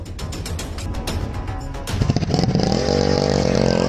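A motorcycle starts off in a workshop setting, its engine note rising and settling into a steady idle-to-cruise drone after an earlier stretch of rhythmic mechanical clicking and ratcheting; close and fairly loud, with no talking.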